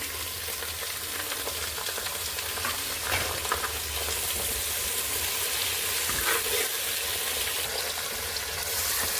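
Fenugreek leaves frying in oil for methi bath, giving a steady, close hiss and crackle with occasional stirring scrapes and no voices.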